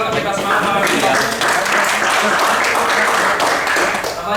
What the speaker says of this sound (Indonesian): yuk, tepuk tangan dulu kita semangat lagi